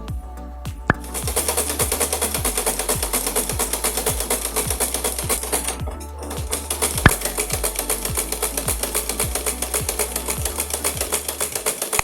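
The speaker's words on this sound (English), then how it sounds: "Now just sew them together." A sewing machine stitches ruffles onto an apron panel, a fast steady rhythmic needle clatter running nearly continuously with one brief pause midway.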